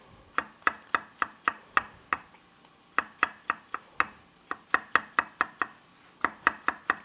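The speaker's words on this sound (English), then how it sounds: "And we'll chop those up too" A knife chops mushroom stems on a cutting board in quick, crisp knocks, bursts of five to seven close strikes broken by short pauses, clear and near in an otherwise quiet kitchen.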